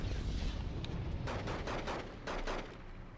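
Distant, muffled gunfire and rattling rifle bursts in the Cold War strategy game Wargame Red Dragon, with a G11 assault rifle firing amid a dense, rumbling battle din and no voices.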